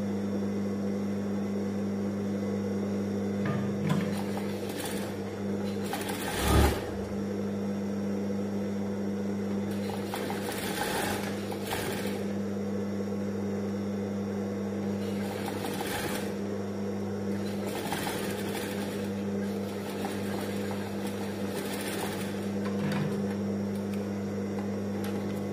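Sewing machine stitching a two-layer ceruty syar'i hijab, a steady mechanical hum with rhythmic motor drone running continuously, with brief louder bursts from handling the fabric.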